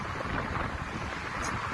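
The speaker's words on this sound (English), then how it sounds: "Very windy day today, man." Strong wind roars across an outdoor microphone on a chilly, sunny day, a steady, loud broadband rush with no break.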